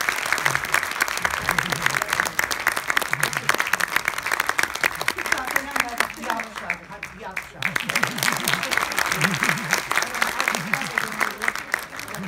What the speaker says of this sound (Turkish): Ve alkışlarla gönderiyoruz Bay Onur.